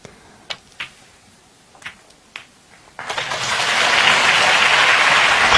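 Several sharp clicks of snooker balls colliding, then at a China Open match between Ronnie O'Sullivan and Gareth Allen the crowd breaks into applause, swelling quickly to a steady, full clapping that continues to the end.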